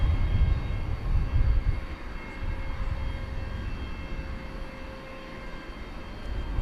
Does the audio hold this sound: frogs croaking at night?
no